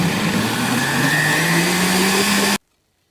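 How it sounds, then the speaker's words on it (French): A blender runs at maximum speed, mixing soaked soybeans with water into soy milk for homemade tofu, a loud steady motor whir with a slowly rising pitch that cuts off abruptly into silence. "On met le couvercle et on mixe au maximum."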